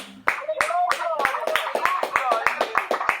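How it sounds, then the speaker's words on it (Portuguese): Congregation at an online church service clapping hands in worship, sharp rhythmic claps landing about every third of a second in a steady beat, heard under a voice singing or speaking over them. "Exalte ao Senhor com as palmas neste momento."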